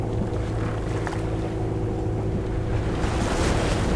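A sailboat motoring across a calm ocean in the doldrums, far out on a long passage to French Polynesia: a steady low engine drone mixed with wind rush and the soft wash of water along the hull.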